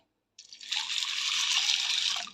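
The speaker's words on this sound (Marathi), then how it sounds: "एक ग्लास पाणी घालून चार तास भिजत ठेवते" A glass of water is poured onto washed rajma kidney beans. After a brief silence comes a steady, close splashing pour lasting about two seconds.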